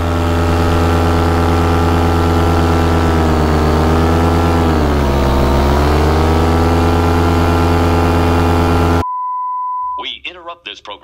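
An Atom 80 aircraft engine runs loud and steady at full power with a strong droning hum, its pitch sagging midway as it bogs down before recovering, then cutting abruptly to a beep tone and a voice.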